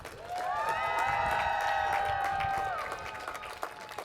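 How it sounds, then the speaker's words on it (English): A graduation crowd in stadium bleachers claps and cheers, with sustained whoops and hollers swelling over steady applause for about three seconds before thinning out. "let's clap, cheer, and holler for our family and friends that are here today"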